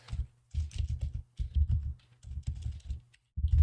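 Keys clack steadily on a computer keyboard in short, quick bursts separated by brief pauses, close up and fairly quiet, with no talking.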